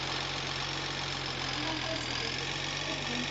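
Game vehicle engine idling and rumbling steadily as it crosses a bridge in a Tamil-language gameplay session, a continuous mid-to-low drone at constant loudness throughout.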